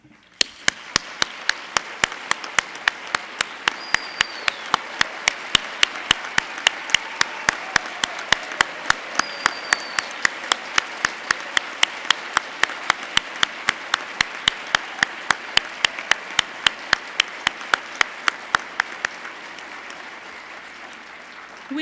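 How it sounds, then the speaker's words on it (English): An audience claps for donors at a college announcement, a steady dense wave of hand claps sustained for about twenty seconds before fading out. "we'd like to thank you with a round of applause"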